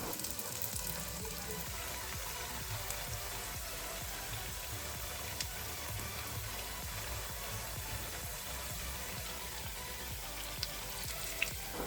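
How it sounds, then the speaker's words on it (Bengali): Fritters (bora) frying in hot oil, a steady dense sizzle that holds evenly throughout at moderate level with no talk over it. "এখন একে একে সবগুলো বড়া তেলের মধ্যে ছেড়ে দেবো।"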